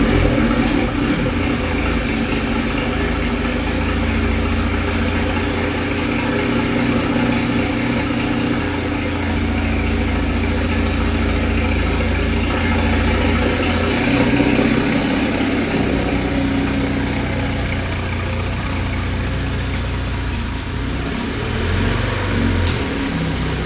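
An Audi S5 Sportback engine runs through a cold start and settles into a steady, rumbling idle. The low drone stays even and close throughout, with only a slight shift in tone partway through.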